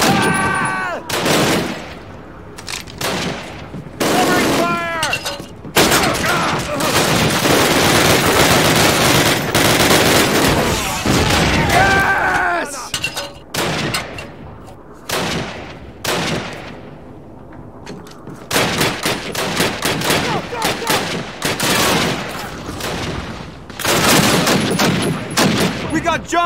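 Heavy gunfire crackles through a battle at Bastogne in Call of Duty, with rapid machine-gun bursts and single shots in dense volleys broken by brief lulls, shouted voices cutting in between.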